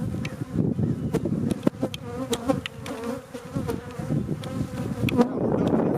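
Honey bees swarm densely around a strong, busy hive, producing a steady close buzz with sharp clicks and bumps scattered throughout.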